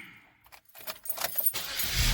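Car keys jangle close by as the ignition key is cycled in a 2009 Saturn Vue, a brief metallic rattle followed by the low hum of the vehicle settling in.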